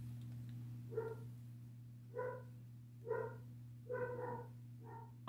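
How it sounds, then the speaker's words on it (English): A dog barks from another floor of the house, five separate barks spaced about a second apart, fairly faint and distant over a steady low electrical hum. "I don't know what she's barking at upstairs."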